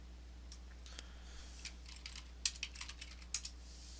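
Light keystrokes on a computer keyboard as a command is typed: faint, irregular clicks scattered over a steady low hum, clustering in a quick flurry toward the end.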